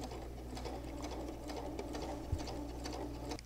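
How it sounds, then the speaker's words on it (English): A sewing machine chain-stitches quilt pieces for a friendship star block, a soft, steady, rapid ticking hum heard close and alone, with one brief thump partway through. "I'm going to take a few stitches and I'm going to slip the next one right in and stitch away"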